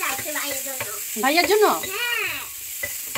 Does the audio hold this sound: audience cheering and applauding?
no